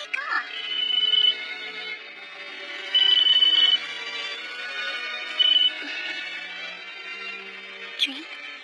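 A phone rings unanswered. Its electronic ringtone repeats in several bursts, some louder and some softer, over a quiet background.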